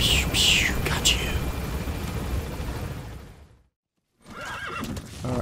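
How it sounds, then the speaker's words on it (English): Horse neighing and hoof clip-clops in Metal Gear Solid V: The Phantom Pain, loud and close over game sounds, cut off by a brief silence before game audio resumes. "Riding around with your horse is pretty easy."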